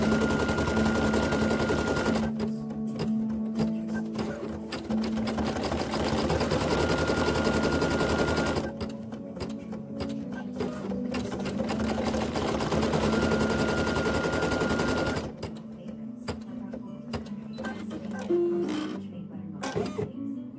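A Brother PE800 embroidery machine stitches the whites of the eyes on an appliqué, with rapid, steady needle chatter in long bursts separated by brief pauses, loud and close.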